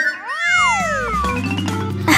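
A kitten meows clearly and close up in a children's play setting: one long, rising-then-falling mew, followed by softer rustling.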